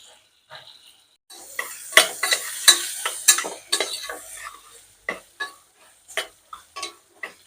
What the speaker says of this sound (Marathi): तोंडली परतून घ्यायची थोडी दोन मिनिटापर्यंत